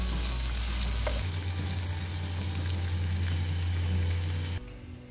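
Bell peppers and onions frying in a pan give a steady, close, continuous sizzle with faint crackles, stopping abruptly near the end.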